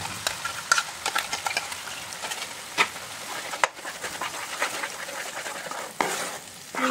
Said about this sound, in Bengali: তো আমি এখন পেঁয়াজের পেস্টটা এর মধ্যে দিয়ে দিই।